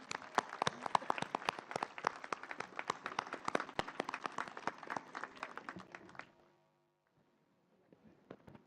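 A university audience applauds to welcome Dr. Abdul Bari Khan as a speaker, dense clapping for about six seconds that stops abruptly, followed by near silence and a few faint sounds.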